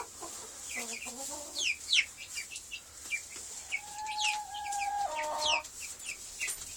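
Cornish hens cluck and cheep in short bursts at close range, with a couple of longer drawn-out calls among the chatter, no speech.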